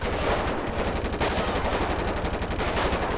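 Sustained automatic AK rifle fire in GTA V with the fivePD mod rattles in a rapid, unbroken burst of dense, loud shots over about three seconds.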